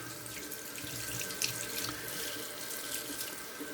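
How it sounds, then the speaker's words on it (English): Tap water runs steadily into a bathtub for rinsing, a continuous close splashing wash with no talking. "Rinse out the tub."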